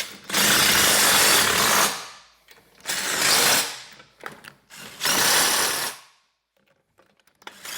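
Impact driver snugging bolts on a track assembly, delivering three loud, close bursts of rapid hammering about a second each, separated by short pauses and a few faint clicks.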